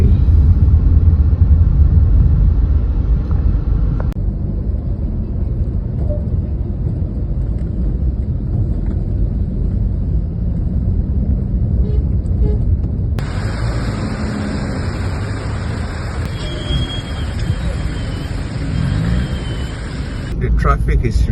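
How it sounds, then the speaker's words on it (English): Road traffic crawling in congestion by highway construction, a steady low rumble of engines and passing vehicles heard from inside a car, with a brief voice. "Traffic congestion again, and all this is because of the ongoing construction"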